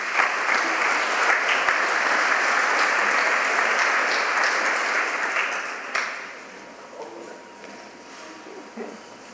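An audience at a business school scholars breakfast applauds, a loud, sustained clapping that thins out and fades around the sixth second, leaving scattered claps at the end.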